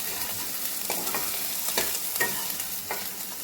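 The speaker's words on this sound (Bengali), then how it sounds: "আর এই পাশে আলু ভাজছে" Potatoes fry in a pan for a crab dish, giving a soft continuous sizzle close by, with occasional light clinks and scrapes from stirring.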